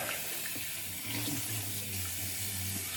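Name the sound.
running tap water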